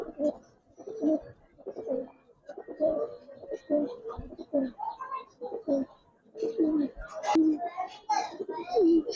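Giribaz coloring pigeons in a loft give soft, repeated rolling coos close by, mixed with chatter from people, including a voice, throughout.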